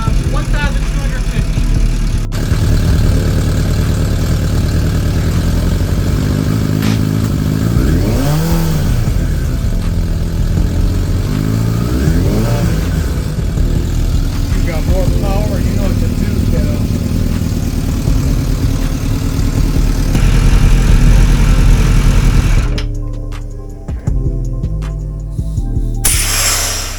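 A Suzuki Bandit 600 motorcycle engine idles loudly and close by, a steady low rumble with slight wavering revs that holds for most of the stretch and then drops away near the end.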